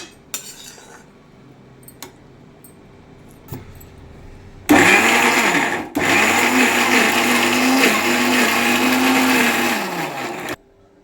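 Kitchen mixer grinder blending cooked mint, tomato and green chilies into chutney; a few clinks of utensils, then a loud, close motor whirr runs for about six seconds with a brief pause, then stops.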